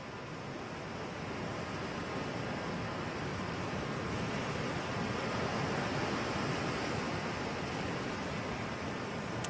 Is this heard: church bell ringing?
no